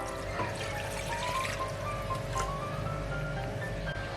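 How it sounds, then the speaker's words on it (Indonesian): Water pours steadily into a non-stick pan, a continuous soft splashing trickle heard close up with a faint background hum and no talk. "Kita tuangkan airnya."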